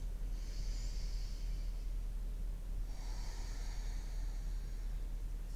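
Two slow, deep breaths, drawn airily through the nose during a yoga neck stretch with the chin dropped to the chest, each a soft breathy whoosh lasting about two seconds, close up over a low steady hum.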